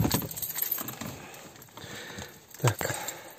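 Car keys jangle and clink just before a Kia Sorento is started with the key on a cold morning at minus seven degrees; a brief rustling jingle sounds nearby with one sharper clink near the end.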